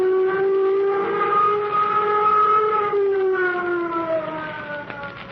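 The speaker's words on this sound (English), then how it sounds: "Sound flight warning signal." A flight warning signal siren holds a steady wailing tone, then slowly slides downward, loud and continuous with layered harmonics and faint background noise.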